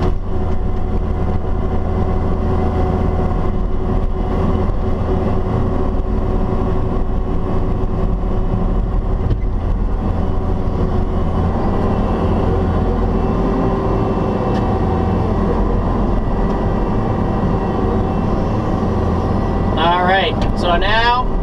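A construction machine running a Trimble GCS Flex grade control system drives up onto a dirt pile about four feet high, its engine a steady loud drone throughout.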